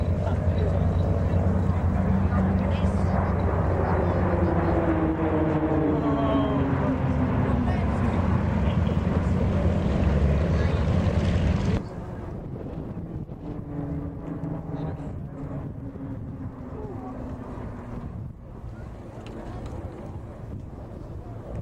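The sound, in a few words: RAAF Roulettes PC-9 aerobatic aircraft flying at air show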